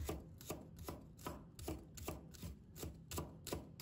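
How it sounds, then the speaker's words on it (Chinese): Knife chopping scallion whites on a cutting board, eight crisp evenly spaced chops, close and clear with no talking. "葱白把它切成葱花"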